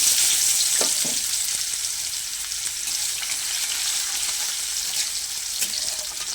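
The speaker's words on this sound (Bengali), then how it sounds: "এবার মাছ ভাজা ওই তেলের মধ্যে দিয়ে দেবো পেঁয়াজ কুচি।" Chopped onion frying in oil left from frying fish for a Bengali fish curry, a steady loud sizzle throughout with a few soft stirring scrapes, no talking.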